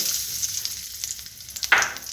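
Bright, crackling sizzle of nigella seeds hitting leftover fish-frying oil, fizzing steadily with a sharper burst toward the end; no voices.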